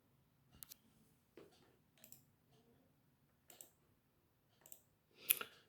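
Computer mouse buttons clicking on a PC while working in Windows Computer Management, a handful of sharp, quiet clicks spaced out over several seconds with no talk.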